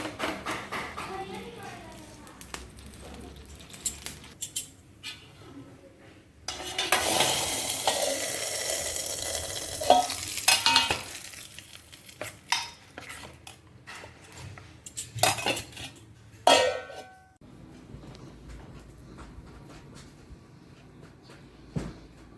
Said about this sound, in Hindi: तो देखिए देसी घी